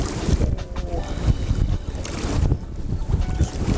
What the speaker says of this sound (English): I'm not sure if you can hear it with this wind, but I can guarantee it's blowing.